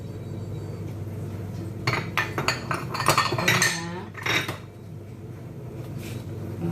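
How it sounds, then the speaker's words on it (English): Greasing a metal bread tin with a little oil in a home kitchen: a few light metallic clinks and scraping clatters come in a short cluster in the middle, fairly faint, surrounded by quiet room tone. "I'm just going to grease that tin a bit so that my bread doesn't stick into my pan"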